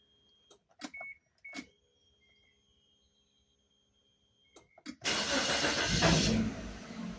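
A faint electric whine from a Suzuki Vitara's fuel pump priming amid a few clicks after 13 years sitting abandoned, followed by the engine cranking and catching into a loud rumble.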